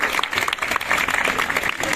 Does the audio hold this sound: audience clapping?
yes